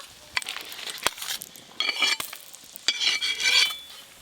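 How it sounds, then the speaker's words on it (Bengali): Bursts of crackling, spitting sizzle from fish frying in hot oil, with occasional sharp clinks and scrapes of a utensil against the pan. "এবার বাকিগুলোও ভেজে নেব"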